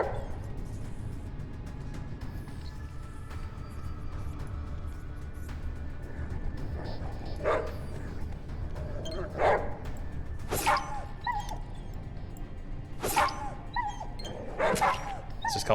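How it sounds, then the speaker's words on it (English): A Giant Dog in ATOM RPG barks and whimpers in repeated sharp yelps, sparse at first then coming every second or two toward the end, over a murmuring game background. "It's just called Giant Dog."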